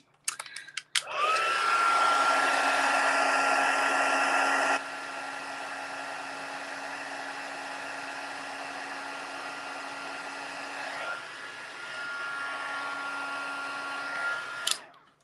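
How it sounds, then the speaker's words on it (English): A heat embossing tool blows a steady, loud whirring drone while puffing gold embossing powder, running continuously for about fourteen seconds with a drop in level partway through and no talk. "So I'm going to emboss them just a little bit more."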